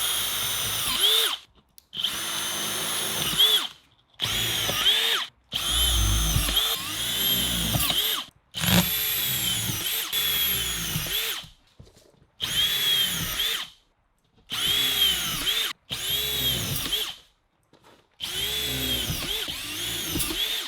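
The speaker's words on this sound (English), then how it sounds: "Here I'm testing my new drywall screw gun." A new drywall screw gun drives screws into board in repeated loud bursts, each a high-pitched whine lasting one to two seconds and cut off by short silent gaps, about eight bursts in a row with no talking.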